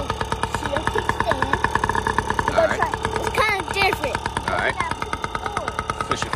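A Yamaha PW-50 dirt bike engine idles after starting, putting out a rapid, steady two-stroke putter close by while people talk over it.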